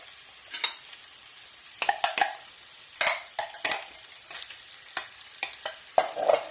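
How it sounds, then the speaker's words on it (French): Bacon lardons and chopped onions fry in olive oil in a skillet for coq au vin, a soft continuous sizzle broken by sharp scraping stirs of a utensil against the pan at irregular intervals. "J'ai mis les lardons à rissoler dans un peu d'huile d'olive dans une poêle"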